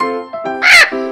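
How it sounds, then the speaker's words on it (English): A macaw gives a single harsh, loud squawk lasting about a quarter second, set against continuous background music. "Macaw."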